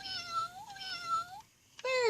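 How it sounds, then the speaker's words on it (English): Toy cat meow from a VTech Explore & Learn Helicopter, an electronic cartoon-style meow that rises and falls twice in long tonal calls, followed by a brief gap and a third meow starting at the end. "C is for cat."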